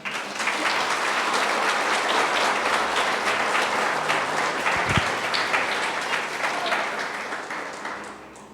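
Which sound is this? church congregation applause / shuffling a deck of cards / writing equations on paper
church congregation applause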